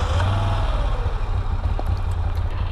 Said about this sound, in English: I think this motor has a great sound, but it's the exhaust mufflers subdue it a bit.